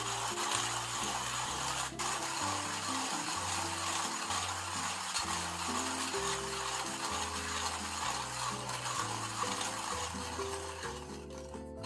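A stainless steel burr hand grinder grinds a small dose of coffee beans at a coarse setting for filter coffee, giving a steady, close, continuous crunching and rasping that runs the whole time with no talk.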